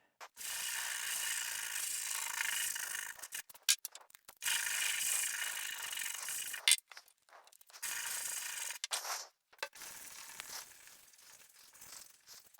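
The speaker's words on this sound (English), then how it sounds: "So, we just finished sanding." Close, raspy scraping of sandpaper over a paddleboard's hard surface in long sustained passes, with brief pauses between bursts and no talking.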